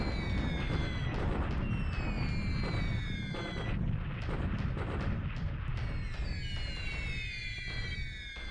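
A bombing attack on the port at Singapore in a WWII strategy video game set in January 1942: continuous dense rumbling explosions with whistling, falling tones of descending bombs layered over them, loud throughout.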